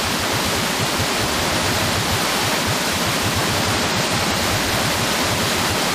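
Water in Kena: Bridge of Spirits churns and splashes in a dense, continuous, loud rush, steady throughout with no voices.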